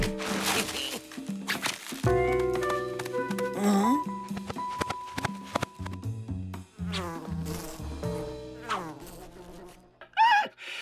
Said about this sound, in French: Ces abeilles se sont enfermées dans ces sacs.